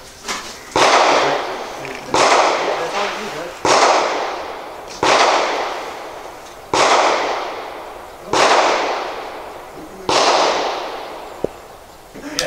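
Six loud rifle shots from a 1915 American-made Mosin Nagant, fired outdoors at an irregular pace a second or two apart, each a sharp crack followed by a long decaying echo.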